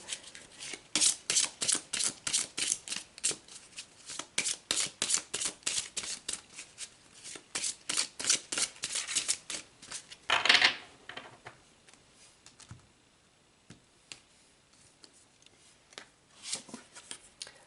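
Tarot cards being shuffled in a steady run of crisp riffling taps, fairly quiet and close, then slowing to a few scattered card sounds near the end.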